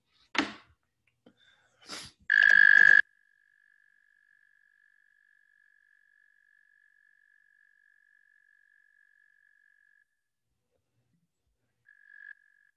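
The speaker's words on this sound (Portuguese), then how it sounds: "Esse é um exemplo de comunicação acústica, né? Os sapos são conhecidos por isso." Frogs croak in a few brief close bursts, including one harsh rasping call, and a thin sustained tone carries on quietly for several seconds.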